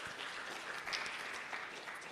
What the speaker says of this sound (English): So I think he deserves a hand of applause.